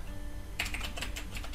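Clicky keystrokes on a computer keyboard during a software install on Ubuntu, a quiet pause followed by a brisk burst of close, irregular key taps.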